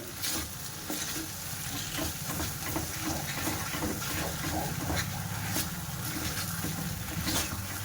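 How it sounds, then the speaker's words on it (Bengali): Semolina caramel halwa with ghee being stirred in a pan on the stove: a steady, continuous sizzle and hiss with scraping stir strokes, close and even, no voices. "ঘিটা দিয়ে দিলাম, দিয়ে এবার নাড়তে থাকবো"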